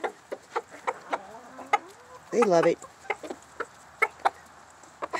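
Chickens cluck in short, scattered bursts close by while being fed, with one louder squawking call in the middle and a brief spoken remark among them.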